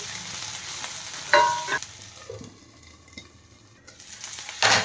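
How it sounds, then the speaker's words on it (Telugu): Ginger garlic paste frying in hot oil for chicken, a steady sizzle broken by a few louder bursts of stirring and spoon scrapes against the pan. "ఇప్పుడు మనము అల్లం వెల్లుల్లి పేస్ట్ ఒక పెద్ద స్పూన్ వేసుకోవాలి అది కూడా పచ్చివాసన పోయేంత వరకు వేయించుకోవాలి"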